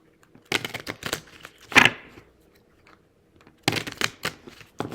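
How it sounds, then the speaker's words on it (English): Crisp bursts of tarot card shuffling, a few quick riffling clusters separated by pauses, close and fairly quiet. "Give these a ruffle shuffle."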